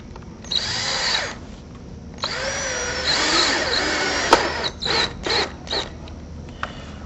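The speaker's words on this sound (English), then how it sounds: "We'll tighten the screw" A power drill drives a screw into a pre-drilled hole, fastening a window frame to a T-post: close whirring runs that rise and fall, followed by several short bursts as the screw tightens.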